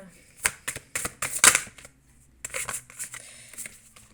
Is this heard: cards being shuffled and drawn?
yes